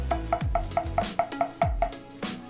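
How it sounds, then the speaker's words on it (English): Soft tap strokes on a marching snare drum played at piano volume, a steady run of light, evenly spaced hits with a faint ring, close and quiet with no talking. "all of my strokes would be tap strokes and would look and sound something like this."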